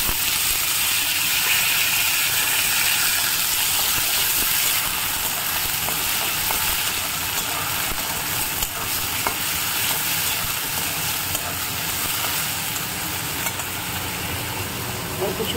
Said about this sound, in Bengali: উচ্ছে আর আলুটা আজকে ভাজবো